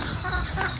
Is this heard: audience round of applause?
no